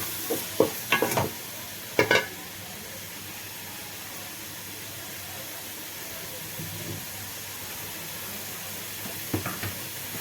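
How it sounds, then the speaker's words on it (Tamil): Tomatoes sauté in a pan for country chicken rasam, a constant hissing sizzle with a few sharp clanks of stirring at the start and again near the end. "தக்காளி போட்டு நல்லா வதக்கணும்"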